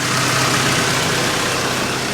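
A Honda Del Sol engine with a freshly replaced fuel pump idles steadily up close, a continuous broadband rumble with a low throb that holds at an even level throughout.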